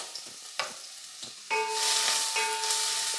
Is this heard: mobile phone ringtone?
no